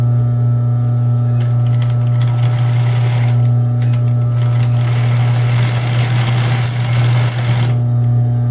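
A sewing machine runs steadily as it finishes a seam with a backstitch on a plus-size bra-free swimsuit, with a loud, continuous whirring hum and a brief pause near the end and no talking.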